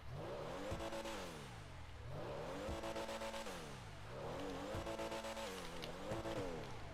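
A Pfister Comet S2 sports car engine in GTA 5 revs up and down repeatedly, rising and falling in steady cycles, with a few faint clicks and no talk.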